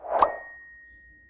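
A notification bell ding sound effect: one bright metallic strike that rings on and fades slowly over about a second, alone and clear.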